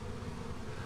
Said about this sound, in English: I can still collect random bees that are in the area